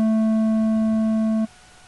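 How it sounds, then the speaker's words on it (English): A synthesizer square wave sounds a steady, hollow, reedy tone for about one and a half seconds before stopping sharply, followed by quiet. "and the square wave,"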